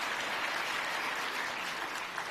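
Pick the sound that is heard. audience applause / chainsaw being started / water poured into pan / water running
audience applause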